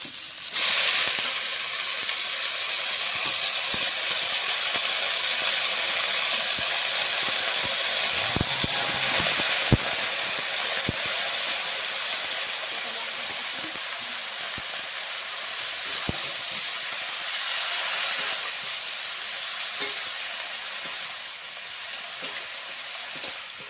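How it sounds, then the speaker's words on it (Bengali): Potato pieces fry in hot oil in a home kitchen while pumpkin greens wait to be cooked with prawns; a steady, loud, broad hiss runs unbroken for the whole stretch with no voices. "আলুটা ভালো করে ভেজে নিচ্ছি।"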